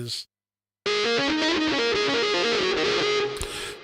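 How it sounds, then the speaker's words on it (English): Electric guitar played through a distortion effect, a short burst of gritty, sustained notes that starts after a brief silence and plays alone, close and fairly loud. "I've got distortion on the guitar"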